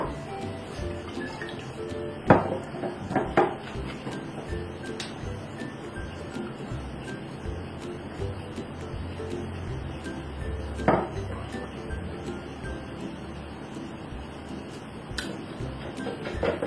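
A spoon clinks against a glass while stirring a drink, with sparse light ticks and a few sharper clinks spread over a quiet background.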